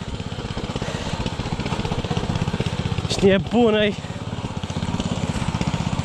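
A walking tractor (motocultor) engine chugs with a steady rapid putter while being driven along a very bad rough road; a man calls out briefly partway through over the running engine.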